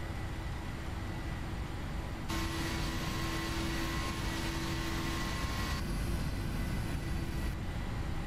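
PMDG 737-900ER jet engines spooling up for takeoff in Prepared3D, a steady loud roar with a bright high whine entering partway and holding, then easing back near the end.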